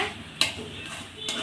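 Masala spices frying in a pan for a small catla fish curry, a steady low sizzle with two sharp stirring scrapes about a second apart.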